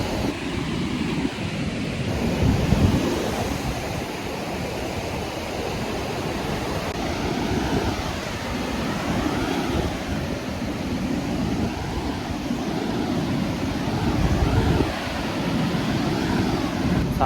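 Broad ocean waves wash in steadily at the sea, a continuous close surf roar with gentle swells rising and falling, mixed with some wind buffeting on the microphone and no voices.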